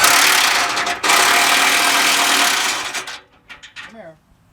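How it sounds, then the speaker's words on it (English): A ratchet tightens the exhaust and muffler bolts on a Lazy Daze motorhome, a long, loud, continuous clicking run with a brief pause, then it stops and a few fainter clinks and a short sound trail off. "Now he's going to tighten everything down."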